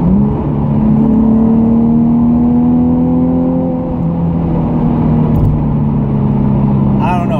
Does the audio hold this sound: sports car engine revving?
yes